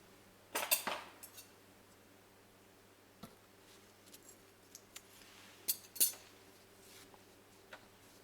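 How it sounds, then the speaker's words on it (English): Scissors cutting crochet yarn, a sharp close snip followed by scattered faint clicks and small handling taps in an otherwise quiet room. "then I'll cut this yarn"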